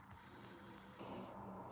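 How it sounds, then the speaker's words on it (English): A slow, soft inhalation through the nose during a morning qigong breathing exercise, quiet and close, with a faint breathy hiss growing toward the end. "Breathing in"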